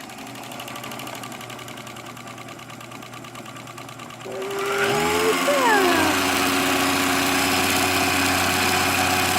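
Elna Supermatic sewing machine with a glazed friction pulley, running slowly with a steady low mechanical hum, then picking up into a louder, fuller whirring drone with a brief rising whine.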